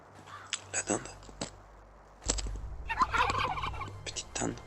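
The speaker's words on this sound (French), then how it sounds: "Petite dinde. Viens là." A turkey in a video game gobbles in short bursts, close and fairly loud, with a player speaking French over parts of it.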